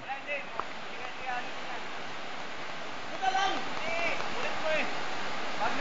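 River water rushes steadily on a Palawan trail crossing near San Nicolas, a constant broadband hiss under scattered voices calling out.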